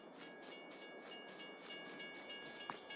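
Freight train in Farming Simulator 22 rolling into a timber station: a steady rumbling rail drone with rhythmic clatter and a faint high tone, moderately loud and continuous, with no talk.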